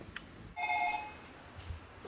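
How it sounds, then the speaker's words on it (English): A telephone in an 80s-style Commodore 64 game rings once: a single short electronic ring with a bright, buzzing trill, close and clear over quiet background. "Oh, the phone's ringing."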